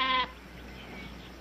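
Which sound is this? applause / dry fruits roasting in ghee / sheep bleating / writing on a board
sheep bleating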